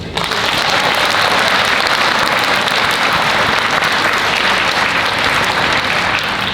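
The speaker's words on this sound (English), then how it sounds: "Can we get a huge round of applause for them?" School assembly audience at a Lunar New Year event claps loudly and continuously, a dense, close wash of applause that starts abruptly and holds steady for over six seconds without speech.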